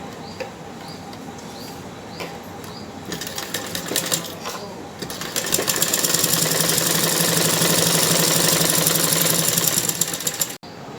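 A sewing machine stitches the shoulders of a lined blouse, running in a steady, rapid mechanical whir that starts, pauses briefly, then continues loud and close before stopping abruptly.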